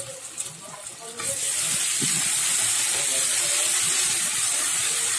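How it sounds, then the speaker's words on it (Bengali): Ginger-garlic paste stirred into hot oil over reddened fried onions, a loud close sizzle that jumps up abruptly after a brief quieter start and then holds as a steady, dense hiss. "আদা রসুন বাটাটা একটু নাড়িয়ে নিচ্ছি তেলের মধ্যে"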